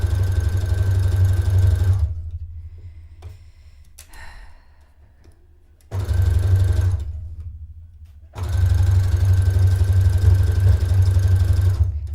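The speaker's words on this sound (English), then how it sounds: "a sewing machine is still a machine with moving parts and sharp things." A sewing machine runs in three steady mechanical bursts with a constant whirring hum, separated by short pauses with faint handling noises.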